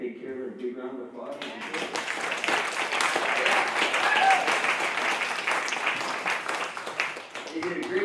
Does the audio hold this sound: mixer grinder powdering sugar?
no